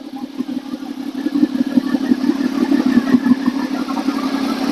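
A freshly rebuilt Honda VFR 800 motorcycle engine runs close by at a steady, throbbing idle, loud and even throughout with no voices.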